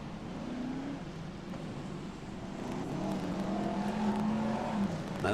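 BriSCA F1 stock cars race at Long Eaton, engines roaring as they pass, the drone swelling louder and rising in pitch toward the end, heard at a distance over a broad rumble.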